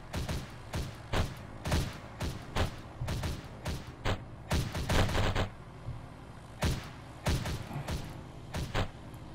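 Gunfire in the video game Timefight: a rapid string of sharp, loud shots in short clustered bursts, a brief pause, then more scattered shots near the end, with no talking.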